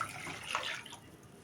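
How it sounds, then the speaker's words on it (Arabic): Hot water pours from a cup onto mango jelly powder in a bowl, a soft, faint splashing trickle that tapers off after about a second. "وهحط عليه كوبايه ميه سخنه."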